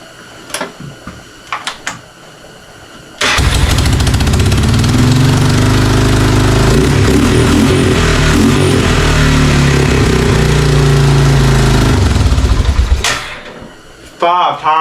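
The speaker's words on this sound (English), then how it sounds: "It's a lot smoother than it was before it was rebuilt." A rebuilt Honda Fourtrax 300 4x4 ATV engine starts up and runs loud and close for about ten seconds at a steady, even idle before shutting off, with brief sounds around it at the start and end.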